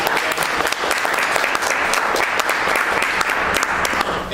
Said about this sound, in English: Let's give them a round of applause for making this happen.